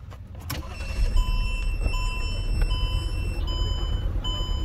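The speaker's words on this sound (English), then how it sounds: "So I want to go ahead and start the car." A car engine starts in a repair shop amid steady low rumble, with repeated high beeping tones running throughout, close and moderately loud.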